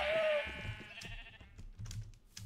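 A sheep bleats in the Minecraft FTB Skies modpack, a loud wavering cry at the start that fades into soft scattered clicks and thuds from the game.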